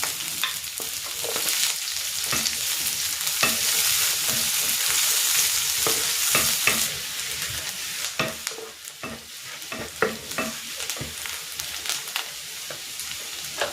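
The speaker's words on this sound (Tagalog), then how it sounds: "igisa ko na rin tong sibuyas" Onion sautéing in a pan with garlic for a pork and bagoong alamang dish: a continuous close sizzle broken by frequent sharp spatula scrapes and clacks, busier in the second half.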